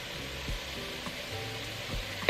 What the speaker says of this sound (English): saute this along with our other mixture just for a few more minutes until that red pepper is a little bit soft